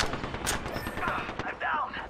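Rapid bursts of video game gunfire crack in quick succession over a little under two seconds, loud and close, mixed with brief background noises.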